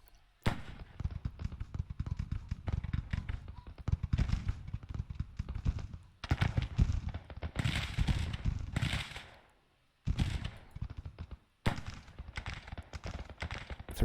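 Rifle volleys crackle from a Confederate infantry regiment in the Civil War strategy game Grand Tactician, dense rattling musket fire in repeated bursts with brief pauses, moderately loud and steady.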